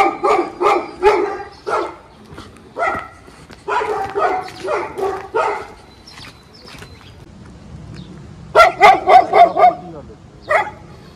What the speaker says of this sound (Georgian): ერთი ძალიან ბრაზიანი ძაღლია